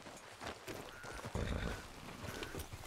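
A horse gallops in the video game Red Dead Redemption 2, its hooves pounding in quick, steady clip-clop beats, with a brief whinny, over faint game ambience and no speech.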